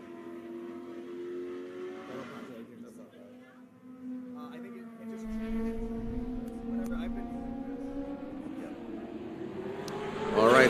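A Katech Z06 and a Civic SI race around a track during a SpeedRing quarter-final, their engines droning with a steady tone that climbs in pitch as they accelerate, while voices talk over the racing.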